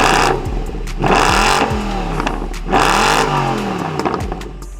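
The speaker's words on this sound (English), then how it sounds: "these both do have, is bloody great sounding engines and exhaust" A V8 swapped into a home-built BMW E30 and a Mercedes C63 AMG V8 rev loudly with their exhausts, two long rising-and-falling revs that roar close up, with a low idle rumble between them.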